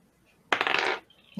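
A D20 die rolls across a table in a tabletop roleplaying session, a single quick clattering burst of bright rattling taps lasting about half a second, close and alone against near silence.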